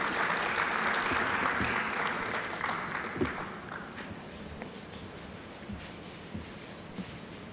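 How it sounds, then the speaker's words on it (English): Audience applause at an HR conference and awards event, steady and fairly loud at first, then thinning into scattered claps that fade under the room's ambience. "Shall we please give him a round of applause?"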